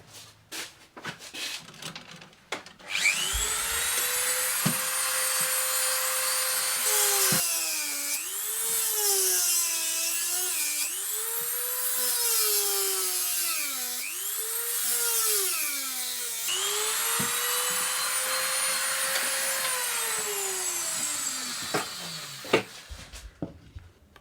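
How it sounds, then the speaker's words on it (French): A drill bores holes into a plaster mould shell for lost-wax bronze casting. A sustained motor whine rises and dips in pitch as the speed changes over about twenty seconds, close up and with no voices. "Je vais percer un trou là et là."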